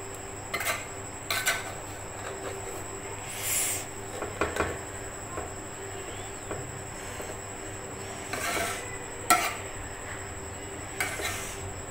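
Moti pulao being gently mixed in a pot with the stove off, soft scattered clinks and scrapes of a spoon against metal with quiet pauses between, no talk.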